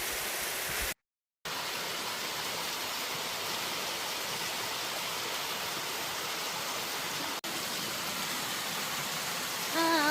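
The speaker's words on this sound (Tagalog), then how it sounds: "This is the last waterfall we passed by." Waterfall on Daedunsan Mountain, a steady, dense rush of falling water close by, broken by one brief dropout near the start and a short click later.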